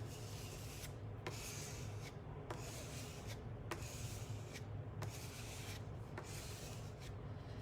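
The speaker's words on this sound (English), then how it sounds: "scrape it in different directions at some points" Acrylic paint is scraped across a canvas in repeated strokes about once a second, each a soft rasping sweep over a low steady background hum, close and quiet, with no voices.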